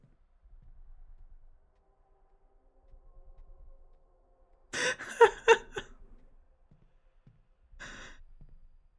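Breathing from the horror video game Dead Take, heard as a few soft breathy sighs and gasps in a quiet space, with a louder cluster of ragged breaths in the middle and a fainter exhale near the end.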